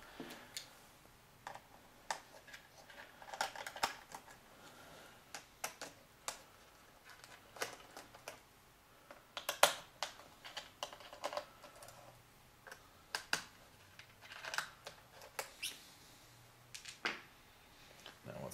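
Screws are taken out from under a laptop keyboard where it attaches to the frame: sparse, irregular small clicks and ticks of a screwdriver and hardware at close range, fairly quiet, with gaps of near silence between them.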